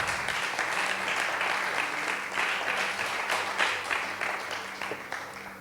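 A church congregation at a sermon breaks into sustained applause, an even, crowded clatter of many hands lasting nearly six seconds with a low steady hum beneath.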